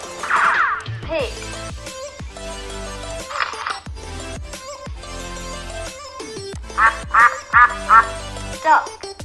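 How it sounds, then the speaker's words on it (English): A duck quacks in several short, close, loud bursts, the quacks clustered toward the end, with some other clinking and knocking sounds earlier on. "duck, duck"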